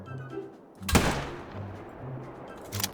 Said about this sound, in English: We only got 3 shots with the 7 mag.